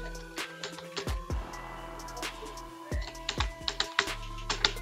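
Keys clatter on a computer keyboard as a first name is typed into a web signup form, a run of quick irregular clicks with brief pauses, close and clear with no talking.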